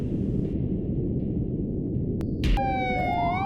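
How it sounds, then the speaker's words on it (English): Police siren from a horror game rises in over a steady low rumbling drone, its wailing tones sweeping upward near the end and growing louder as it approaches. "Police sirens can then be heard approaching and getting louder"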